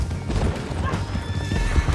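Horse whinnying with clip-clopping hooves in Red Dead Redemption 2, loud and close over a dense rumbling game soundscape, the neigh rising briefly near the middle of the steady hoofbeats.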